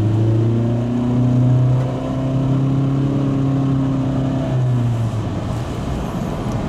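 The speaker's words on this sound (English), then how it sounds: "The engine note will filter in, and that is to be expected because of the CVT transmission." A 2024 Honda Civic Sport sedan with a 2.0 engine and CVT accelerates, its steady droning engine note rising gradually and holding level, heard from inside the car with no talking.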